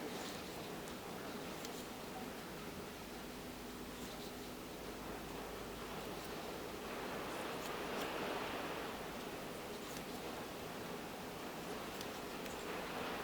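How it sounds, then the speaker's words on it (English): Steady broadband hiss of rain falling, continuous and even throughout, with no distinct voices or other sounds standing out. "I apologize if you can hear the rain in the background."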